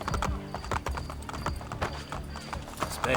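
Rapid hoofbeats of a horse clip-clop steadily in Assassin's Creed Brotherhood, mixed with game effects and a voice talking over them.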